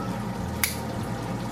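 A compact 7 lb RCA portable washing machine takes in water, a soft, close trickle and drip over a low steady hum, with one brief splashy burst midway and no talking.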